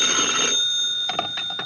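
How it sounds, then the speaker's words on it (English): An old telephone in a 1951 radio detective drama rings in a few short bursts of bell tones, clear and close, after a brief passage of other sound. "10 minutes later, I got a phone call."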